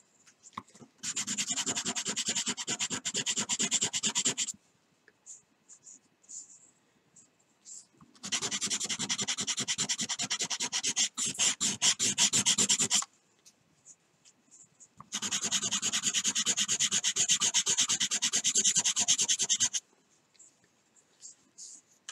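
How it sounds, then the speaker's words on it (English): A hand-carved wooden fishing lure rubbed against sandpaper, three long bursts of rapid back-and-forth scratchy sanding separated by quiet pauses, close and loud. "Sometimes because of the shape of the piece, you just have to take it to the sandpaper instead of taking the sandpaper to it."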